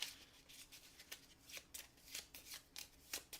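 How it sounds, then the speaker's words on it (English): Decks of cards are shuffled during a tabletop board game: a quiet, close run of crisp riffling bursts repeating in a fairly regular rhythm, with no speech. "Shuffle our decks here."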